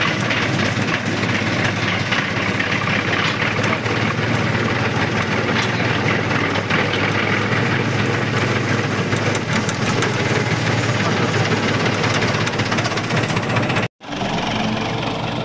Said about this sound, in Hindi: और टॉप गियर में है ट्रैक्टर